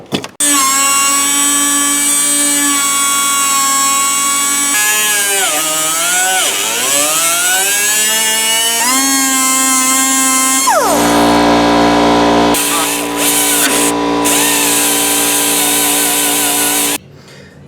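A power tool cuts through car carpet inside a fifth-generation Chevrolet Camaro, its motor whine steady, then dipping and climbing in pitch as it bites, before cutting off and leaving a faint hum.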